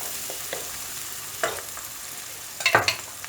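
Ginger garlic paste sizzles in a pan while cooking egg masala, a soft steady frying hiss with a few sharper scraping stirs near the end, quiet and close with no talking.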